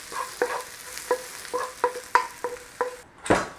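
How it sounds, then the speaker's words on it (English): Onions frying in a pan while being stirred, a steady sizzle punctuated by about nine regular spoon scrapes and knocks, close and fairly loud, ending in a harsher scrape. "Cook out the rawness of the onion."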